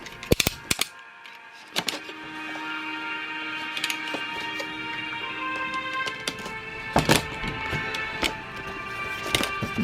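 Mechanical clicks, snaps and plastic rattles from a Star Wars Black Series Ahsoka Tano action figure box being opened with a knife, with sharp close transients over a steady faint hiss.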